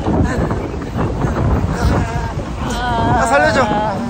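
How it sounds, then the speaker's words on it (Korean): Wind gusts outdoors buffet the microphone with a steady, loud rumble, while people chat and laugh on top of it. "아 바람"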